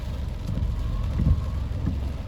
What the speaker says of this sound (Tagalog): Inabot na sila ng ulan.